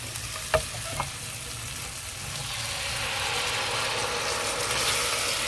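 Cream sauce poured into a sizzling herb mix in a hot pan while making rosemary chicken: a couple of sharp clinks, then a loud, steady, close sizzle that builds and holds, with no talking.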